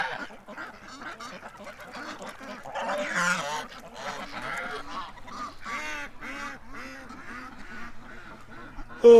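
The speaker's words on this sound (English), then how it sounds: "Oh, the geese." A flock of geese honks repeatedly and close by, a steady chorus of nasal calls overlapping throughout, with a brief louder knock at the very end.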